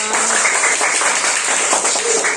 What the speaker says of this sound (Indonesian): silakan tepuk tangan dengan keras